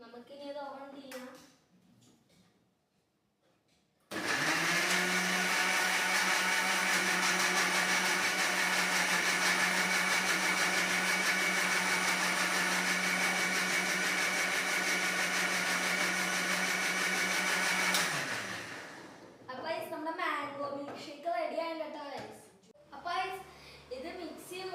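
An electric mixer grinder blending mango milkshake runs as a loud, steady whir for about fourteen seconds, then spins down, with people talking before and after.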